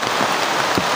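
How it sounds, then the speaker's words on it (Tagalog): Heavy rain pours down on a mountainside, a dense, steady hiss of drops beating on surfaces close by, with no voices over it. "Napakalakas ang ulan."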